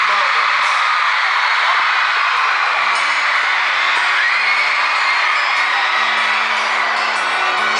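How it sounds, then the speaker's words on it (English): Dense, loud crowd of mostly young fans screaming and cheering at a concert in Charlotte, heard from the front row, with continuous whoops and yells sustained throughout without a break. "cheering."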